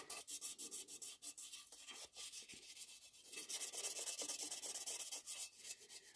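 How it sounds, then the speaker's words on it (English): Hand sanding of a porcelain or ceramic chip repair, a steady stream of close, dry rubbing strokes in a quick irregular rhythm, with no voices. "And I will just keep sanding like so."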